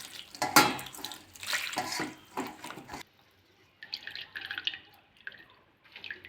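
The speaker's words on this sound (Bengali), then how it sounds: "ছানাটা কেটে গেছে, আমি এবার ঢেলে নেব। ভালো করে ধুয়ে নেবো ছানাটা।" Water pours and splashes over curdled milk chhana being rinsed at a sink, a running, dripping wash followed by quieter intermittent trickles and splashes close by.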